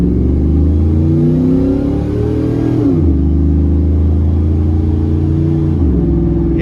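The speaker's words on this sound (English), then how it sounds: "But we're definitely gonna see if it'll growl for us" A 2004 Chevrolet Silverado single cab with a 4.8L V8 and aftermarket exhaust revs and accelerates. The loud engine tone climbs, drops at two gear shifts and climbs again, with no talk.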